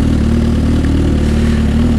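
A Suzuki GSX-R 1000 sport motorcycle idles close by with a steady, raspy low rumble and even throb, continuous and loud with no talk over it.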